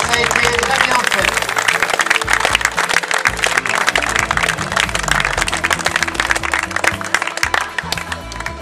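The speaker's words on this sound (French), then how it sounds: "Des applaudissements pour leur travail" An audience applauds the chair umpires at a 2008 tennis event in Leysin, a dense, steady clatter of many hands clapping close by, continuing over a voice speaking through it.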